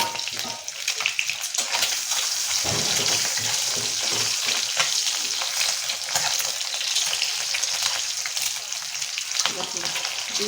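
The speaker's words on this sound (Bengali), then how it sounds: "ডিম আমি একটু ভেজে নেব।" Egg frying in a pan, a steady close sizzle and crackle of hot oil running throughout with occasional stirring scrapes, no talking.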